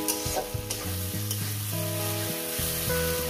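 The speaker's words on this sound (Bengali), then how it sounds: "কলমি শাকটাকে দেওয়ার পর আমি আস্তে আস্তে এটাকে ভাজতে থাকবো।" Water spinach (kolmi shak) frying in a pan, a constant close sizzle with soft stirring scrapes, under a sustained musical tone running throughout.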